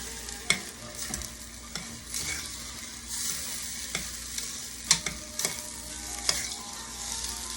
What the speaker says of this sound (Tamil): நெய்யிலேயே வந்து கொஞ்சம் ஃப்ரை பண்ணிக்கலாம்.